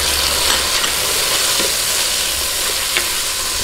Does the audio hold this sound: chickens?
no